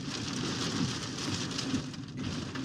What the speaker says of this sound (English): Let's go listen in. By hail.